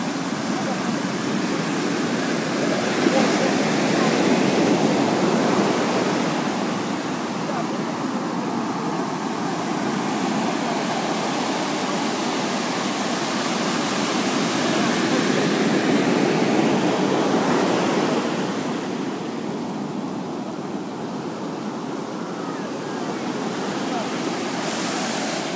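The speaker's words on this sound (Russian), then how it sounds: "Вот это волны, это океан." Ocean waves break on a hot Florida beach near Orlando, a continuous loud roar of surf with swells that rise and ease over the stretch, heard close by.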